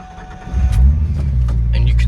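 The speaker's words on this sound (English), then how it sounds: "You can get in your car" A 1999–2004 Ford Mustang V6 starts up after a starter replacement, a brief starter crank catching into a loud idle rumble that settles and holds, close by, with a few small clicks and knocks on top.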